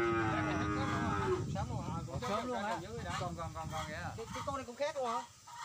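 Brahman cattle at a breeding farm give repeated loud, wavering moos, close by, while people talk in the background.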